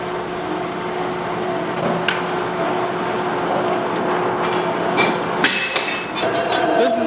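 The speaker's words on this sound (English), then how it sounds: "they go back to the grinder." At the Chop-Rite factory, a grinder machining meat grinder parts runs with a steady, droning hum, punctuated by scattered metallic clinks and knocks.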